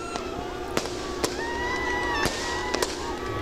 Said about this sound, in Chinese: 希腊也在巴特农神殿上空释放璀璨烟火